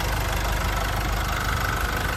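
A Nissan pickup truck's 2.5-liter turbo diesel engine idling, a dense, steady rumble that stays constant and close throughout.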